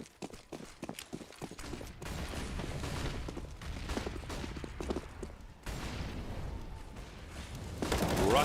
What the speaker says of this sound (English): Peppering with the MP9 is Steel